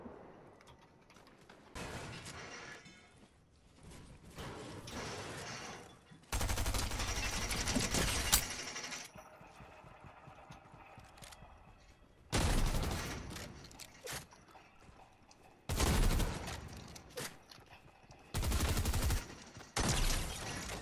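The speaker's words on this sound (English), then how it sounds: "Damn, that shotgun did 900 damage." Shotgun blasts and other gunfire in Fortnite sound as several loud, separate bursts, some long and some short, spread across a quieter stretch of faint in-game background noise.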